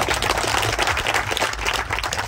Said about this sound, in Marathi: आपल्या सर्वांच्या जोरदार टाळ्या झाल्या पाहिजे